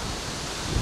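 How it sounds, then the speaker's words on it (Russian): Steady broadband wind roaring and buffeting against the microphone on a shore while fishing, constant and fairly loud, with a low gust near the end. "Ветер сильный."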